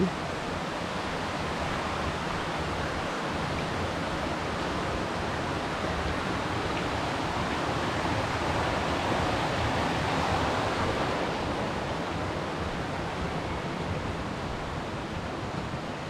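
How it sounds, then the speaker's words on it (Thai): A small stream flows past a village homestay in Mae Lai Village, Chiang Mai, making a steady, even rush of water that fills the whole stretch close by, with no talk. "มันดีตรงที่มีแบบลำธารเล็กๆเนี่ยนะคะ ไหลผ่าน"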